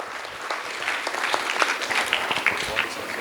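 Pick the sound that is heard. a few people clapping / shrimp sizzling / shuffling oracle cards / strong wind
a few people clapping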